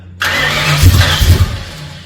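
A rebuilt 302 Cleveland V8 cranks and fires, a loud, close burst of rough combustion that holds briefly as the engine catches, then continues as a ragged running roar.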